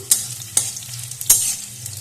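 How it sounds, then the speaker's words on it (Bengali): Chopped onions fry in hot oil for birista, crisp fried onions for chicken pulao, giving a steady close sizzle broken by three sharp stirring scrapes, with no talking. "তো এবার আমি কিছুটা পেঁয়াজ ভেজে নিচ্ছি বেরেস্তা বানানোর জন্য"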